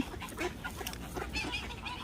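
Geese and ducks at a park in England honk and quack in a dense, overlapping chorus close by, with calls coming in quick irregular bursts and no clear pauses.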